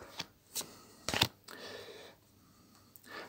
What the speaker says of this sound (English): I'm going to pull a few cards to see to see what energy would come through today from our chakras